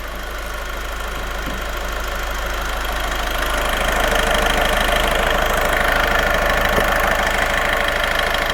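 A vehicle engine idles steadily during a DPF cleaning soak and rinse, a continuous low rumble with faint knocking that builds slightly in loudness partway through and then holds constant.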